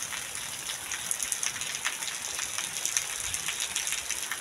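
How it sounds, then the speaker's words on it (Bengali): Heavy rain pours down steadily outdoors near a pond where ducks play, a dense, even hiss of drops with close patters on nearby surfaces and no voices. "দেখো বন্ধুরা কত জোরে বৃষ্টি হচ্ছে।"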